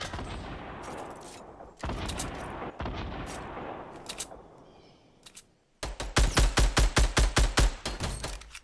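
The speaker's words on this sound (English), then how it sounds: "I shot him through the fucking wall." Fortnite gunfire, with scattered single shots early, then a fast, loud series of about a dozen evenly spaced rapid shots close up near the end.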